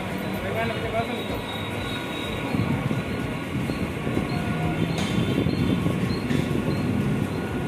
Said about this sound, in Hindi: अभी लोकल ट्रेन निकल चुका